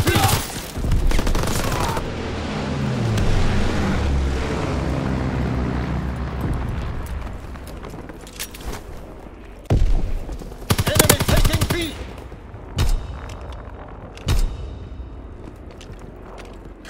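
Gunfire during a Call of Duty: WWII multiplayer Domination match, loud dense automatic bursts and explosions early on, then scattered sharper single shots and short volleys later, with distant battle rumble between them.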